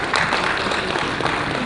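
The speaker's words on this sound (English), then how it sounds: "Please can we give him another round of applause?" A room full of people at a National Diaspora Day gathering claps for a state commissioner, a loud, dense and even wash of applause sustained for nearly two seconds with no speech on top.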